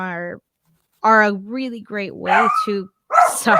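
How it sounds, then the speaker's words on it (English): A dog barks and yips in several short, harmonic bursts close to the microphone, mixed with a person's speech. "that's my dog."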